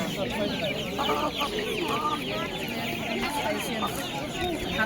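Chickens at a poultry bazaar in Karaozek cluck steadily throughout, a dense, busy flock sound layered with nearby crowd chatter and people talking.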